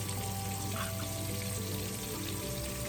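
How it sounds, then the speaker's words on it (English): A steady, dense sizzle of shrimp and whiting fish frying in hot oil, continuous and close, with no talking. "I'm very happy to be frying up a little shrimp"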